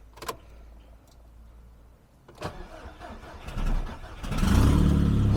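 An AWD-converted Volkswagen Golf GTI engine cranks after a few faint clicks, catches and rises to a loud, steady idle, heard close up with no talking.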